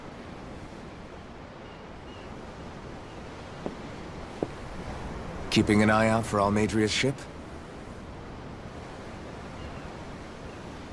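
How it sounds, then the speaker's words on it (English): Ocean waves wash steadily around a ship at sea in Tales of Arise, a soft, constant surf-like rush that continues under a short stretch of speech midway. "I'm looking at the ocean. The ocean? Yeah. The waves."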